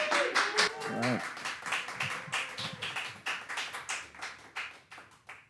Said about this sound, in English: please welcome Joshua with a nice applause